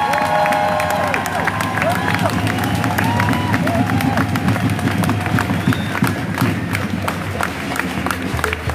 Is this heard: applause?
yes